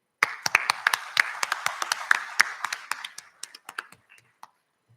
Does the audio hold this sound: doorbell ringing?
no